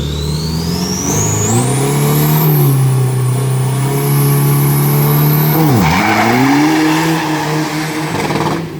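An Isuzu D-Max pickup, a street-legal stock-body truck, blasts off in drag race practice. Its engine howls loudly and steadily close by, holding a high revving pitch for several seconds, then dips sharply as it shifts and pulls on with a whistling turbo whine above.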